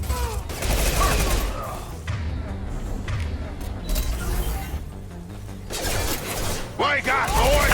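Mass Effect 2 combat gunfire, dense rapid bursts and crackling shots mixed with clanking effects, loud and continuous, with voices talking over it.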